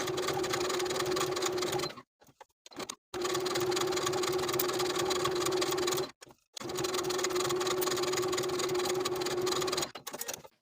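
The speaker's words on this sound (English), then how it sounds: "Now I'll sew the top and inner edges, edge stitching those pockets in place." Sewing machine edge stitching the pockets of a zipper jacket, steady close mechanical whirring in three long runs of a few seconds each, separated by short pauses with faint handling sounds.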